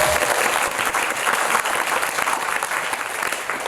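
An audience at a Korean author's book concert claps in a dense, steady burst of applause that fills the whole stretch at close range.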